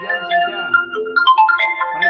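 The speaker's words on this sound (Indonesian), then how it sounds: "Ini ada telepon tapi nggak tahu cara mematikannya." Mobile phone ringtone plays a bright, melodic electronic tune during a talk, loud and close, with rising and falling notes repeating continuously.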